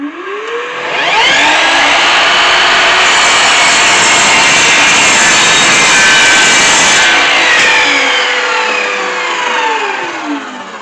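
An Einhell TE-SM 36/10 L cordless sliding miter saw spins up, bites through a piece of wood with a loud, steady rasping whine, then winds down, close and unaccompanied by speech.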